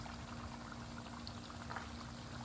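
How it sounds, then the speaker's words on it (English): Fish frying in oil in a pot gives a steady, dense sizzle and bubbling that keeps up without a break, fairly close, with no voices. "Here you have the fish frying."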